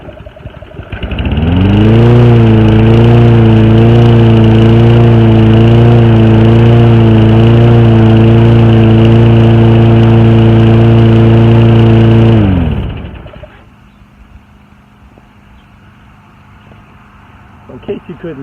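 Toro gas lawn mower engine running loud and steady at close range for about eleven seconds with a constant tone, then shutting off into quiet background.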